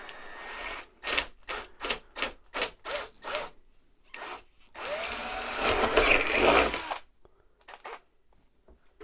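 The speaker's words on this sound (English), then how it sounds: "So you get your drill and your drill bit," A power drill whirs in a quick series of short bursts, then one longer grinding run into foam on an HO scale model railroad layout, close by, followed by quiet handling noises.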